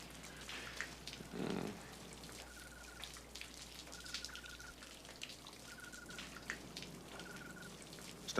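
Steady soft patter of rain falling outdoors at night, faint and continuous with scattered drips, no voices over it.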